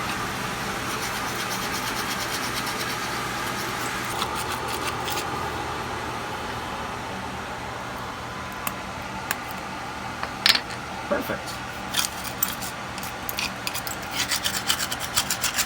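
A grout tool rasps steadily back and forth as grout is hand sawn in stucco around a sliding patio door opening, a continuous close scraping that gives way to scattered knocks and chips near the end, with a brief spoken word.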